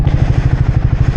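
A stock Triumph Speed 400 motorcycle engine idles close by with a steady, loping pulse, loud and rhythmic, with no voices.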